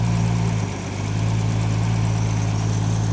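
A Ford 200 inline six idles steadily with a low, even hum while its choke is adjusted, holding a constant note with a brief dip in level partway through.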